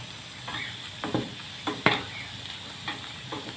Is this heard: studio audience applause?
no